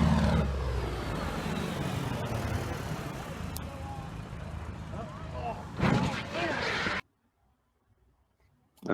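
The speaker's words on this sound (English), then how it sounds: "we can hear the engine quit when the fuel unports" Light aircraft engine running steadily, then sputtering and cutting out as fuel unports during a crash, with loud bursts near the end followed by sudden silence.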